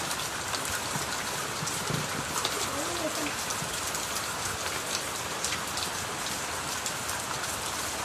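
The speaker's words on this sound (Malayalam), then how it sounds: "ഇവിടെ ഇങ്ങനെ ഉള്ള മൊത്തം മഴ ആയിട്ട്" Steady rain falls and patters on surfaces, a constant close hiss of drops with no breaks.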